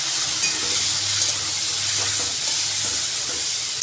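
Ground spice paste sizzles loudly in a hot pan with fried taro as it is stirred, a steady close hiss running throughout with soft scraping underneath.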